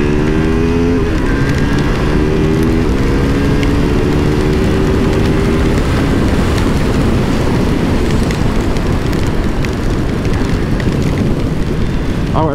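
A Yamaha MT motorcycle engine revs hard and loud, its pitch climbing and falling through several rises, close and dominant throughout.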